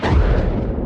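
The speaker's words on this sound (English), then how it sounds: "Did you guess fireworks" A single firework bang, a loud, close boom with a rumbling tail that fades within a second.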